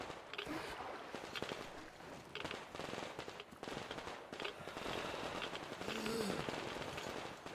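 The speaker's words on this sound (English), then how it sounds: "Oops, someone's shooting." Gunfire in the video game Metro Exodus, irregular bursts of sharp shots and rattling volleys at moderate distance, among scattered game sounds.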